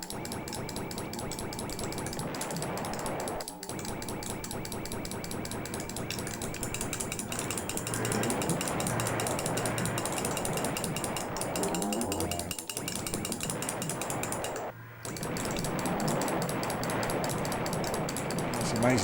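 Sound effects from the Amiga shoot-'em-up Sidewinder play loudly and continuously, a dense mechanical clatter of rapid ratcheting bursts and clinks layered over a steady game soundtrack, with brief dropouts near the start and end.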